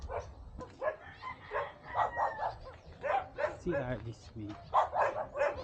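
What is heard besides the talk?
dogs barking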